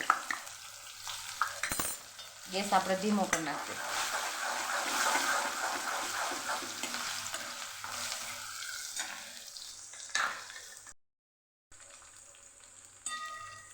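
Crushed ginger and green chillies sautéing in hot oil with cumin, mustard seeds and asafoetida for Kathiawadi dahi tikhari, giving a steady close sizzle with stirring scrapes, briefly under a voice before dropping away near the end.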